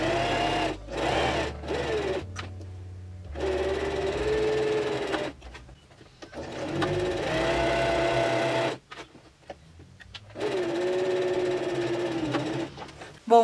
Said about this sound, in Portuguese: vou seguir com a costura nessa linha e vou descer aqui exatamente em cima da linha